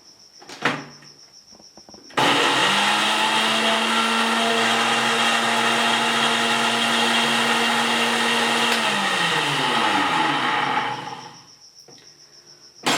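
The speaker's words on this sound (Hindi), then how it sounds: "अब इन सारे मसालों का हम फिर एक बार ग्राइंड कर लेते हैं" An electric kitchen grinder whirs at full speed through biryani masala spices, a loud continuous close roar for about eight seconds, then winds down and stops, with clunks of the jar before and after.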